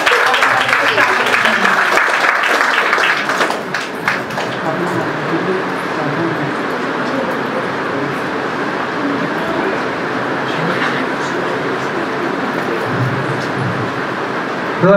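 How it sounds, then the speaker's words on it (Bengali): Audience applause for a drama troupe at a Good Friday 2024 gathering: a dense, steady wash of clapping that is loudest in the first few seconds and then holds on evenly, with voices mixed in. "আসুন আমরা সকলে এই নাটকের দলের জন্য জোরে করতালি সহকারে"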